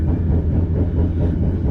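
Steady low rumble of the Jaka Tingkir economy train running on rails, heard from inside a carriage as a continuous close drone with no voices.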